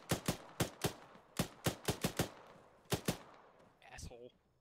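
Sharp, single gunshots crack one after another in a military shooter game, loud and close, with a brief pause before a final pair and a short exclamation at the end.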